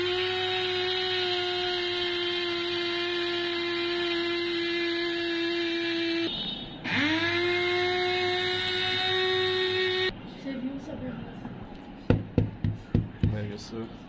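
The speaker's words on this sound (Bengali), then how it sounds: "এখন জিরা গুঁড়ো করতেছি।" Cumin seeds being ground in a household electric grinder, a steady whirring motor hum that cuts out, restarts and then stops, followed by several sharp knocks and taps toward the end.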